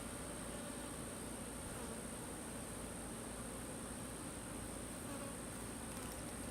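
Honey bees swarm and buzz around an open, healthy beehive, a dense, continuous close drone that stays even and loud for the whole stretch with no voices.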